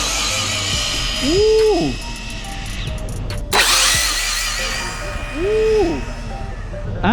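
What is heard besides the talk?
RC car on 6S battery accelerating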